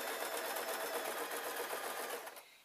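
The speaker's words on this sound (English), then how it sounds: "So all we need to do now is we literally sew along the top." A sewing machine stitches along the top edge of a knitting bag with a steady, close whirring hum that lasts a couple of seconds, then winds down and stops.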